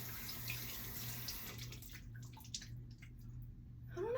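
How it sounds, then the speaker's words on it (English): A water tap runs steadily, filling a sink or bath with a close, continuous hiss and splash that holds at an even level throughout. "hopefully you can hear me over the water."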